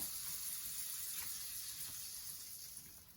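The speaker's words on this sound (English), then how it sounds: "And that's sizzling away." Butter sizzling in a hot pan on a home kitchen stove, a steady soft hiss of frying with faint crackles, heard alone at close range.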